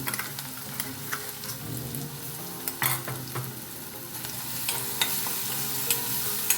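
Onion sizzles in a pan as it fries toward brown, a steady close crackle and hiss with occasional sharp scrapes and clinks of a stirring spoon, no one talking.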